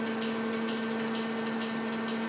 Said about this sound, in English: The rig's engine spins the drill string as it is pushed into the ground.